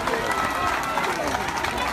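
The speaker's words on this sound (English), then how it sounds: "Give a round of applause, please." Audience applause fills the room at a mayor's swearing-in ceremony in Gambia, a steady, dense clatter of many hands that holds evenly from start to end.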